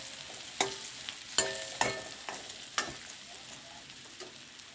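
Chopped onions frying in a pan for egg biryani, a soft continuous sizzle broken by several sharper crackles and stirring scrapes, close but quiet, without speech.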